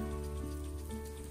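A small stream trickles through countryside land during the dry season, a faint, even, continuous babble with no voices.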